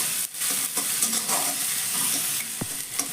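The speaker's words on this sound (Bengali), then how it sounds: "তো খুব ভালো করে পেঁয়াজ আদা রসুনটাকে হালকা একটু ভেজে নেব।" Onion, ginger and garlic fry in a pan with a steady broadband sizzle, stirred throughout, and one sharp scrape or clink near the end.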